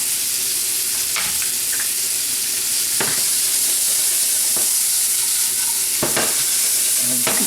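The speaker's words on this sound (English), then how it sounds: "we're going to start sauteing up our veg here. I'm going to start with the tomato, zucchini, and eggplant." Tomato, zucchini and eggplant sautéing in olive oil in a pan, giving a steady close sizzle with occasional stirring scrapes and clinks over the frying hiss.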